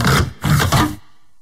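A washing machine filter is changed, giving two bursts of broadband whirring and scraping with a brief pause between them, then an abrupt stop into near silence.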